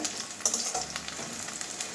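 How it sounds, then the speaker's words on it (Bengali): Chopped onion with a green chilli frying in a pan for bottle gourd poppy seed curry, a short steady sizzle heard close with a faint stir, no voices. "পেঁয়াজটা ভালো করে ভেজে নেব"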